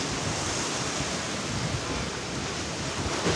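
Strong, fast-moving sea water churns at Do Darya in Karachi, a continuous loud rush of surf mixed with wind buffeting the microphone.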